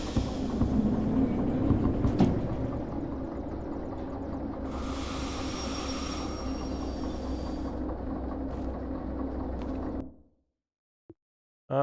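A locomotive running in the video game Derail Valley, a steady low rumbling engine drone with a brief hiss partway through, continuous and close before cutting off abruptly near the end.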